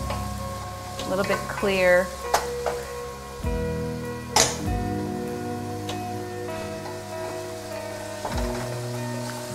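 Red onion sizzles and crackles as it is stirred in a soup pot for a delicata squash soup, with a few spoon knocks against the pot and a person speaking briefly over the cooking.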